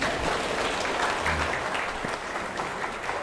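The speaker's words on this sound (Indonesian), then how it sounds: "Mana tepuk tangannya?" Audience applause during an Indonesian religious lecture by an ustadz, a full, continuous roar of many people clapping at a steady level from start to finish.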